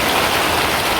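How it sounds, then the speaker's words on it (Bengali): Monsoon rain falls steadily in a village, a dense, unbroken hiss over a short moment with no voices. "আবার এই যে নামছে এখানে তাছাড়া আষাঢ় মাসের বৃষ্টির কোনো গ্যারান্টি নেই"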